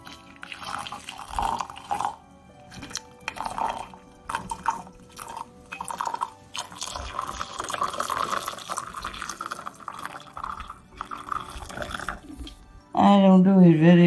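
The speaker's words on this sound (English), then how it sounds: "Then just pour boiling water over it." Boiling water is poured into a cup, giving a soft, continuous splashing and trickling with small drips, ending in a louder moment where a voice briefly cuts in.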